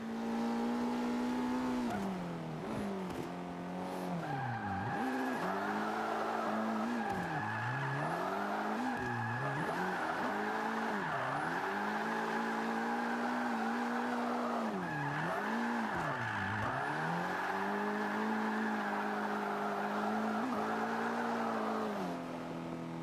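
Mitsubishi Evo 8 engine in Forza 5 revs hard and loud with repeated rising and falling sweeps, tires squealing in wheel spin throughout, no talking.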